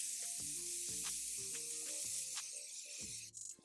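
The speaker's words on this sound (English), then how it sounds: "So I'm going to use my Morphe setting spray." Morphe setting spray mists out in a string of short, soft hissing bursts, roughly six or seven quick pumps in steady succession close to the mic, followed by light handling noise.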